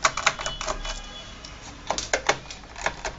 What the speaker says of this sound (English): Let's just start by removing the hard drive screws.